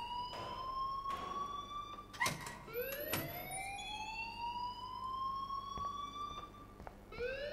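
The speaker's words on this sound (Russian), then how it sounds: "И, пожалуйста, вырубите сирену." An alarm siren in the video game Life Is Strange wails in repeated rising sweeps, fairly quiet and steady, with brief clicks and no talking.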